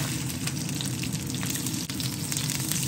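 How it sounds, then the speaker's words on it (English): Skin-on chicken thighs pan frying skin side down, giving a loud, dense, continuous sizzle and crackle with steady intensity throughout. "we've left the skin on, so we're going to pan fry these"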